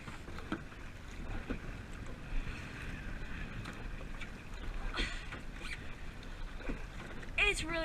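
Wind gusts buffet the microphone during a kayak outing on open water, a constant rushing noise with occasional sharper bursts and faint water sounds underneath.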